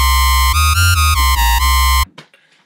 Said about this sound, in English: how to make a Brostep or Electro synth